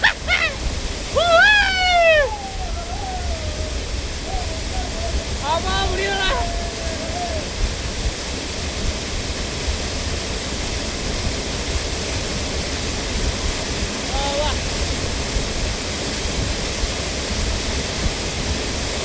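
A waterfall at Salango Temple Park in Malaysia roars steadily and loudly throughout, while people talk briefly over it near the start.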